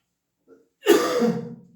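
A single harsh throat-clearing cough bursts out after a brief faint grunt, loud and close.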